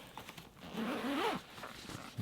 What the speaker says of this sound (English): So, here's the broken zip, right?